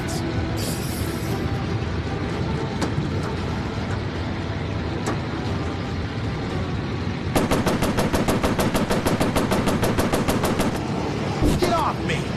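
Machine guns fire from a warplane over the Pacific in a VR combat game, a rapid continuous rattling burst heard close over a steady engine drone, with shorter bursts near the end.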